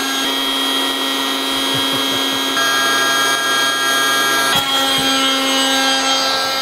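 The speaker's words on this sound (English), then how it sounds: "Now it's time for the power tools." A power tool runs continuously with a loud, steady whine and rich harmonic hum, its pitch shifting slightly midway, and a brief clunk occurs near the end.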